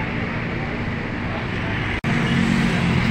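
Agramas bus rolling into Terminal Grogol, a steady loud engine and road rumble close by with a brief cut partway through, and someone talking over it.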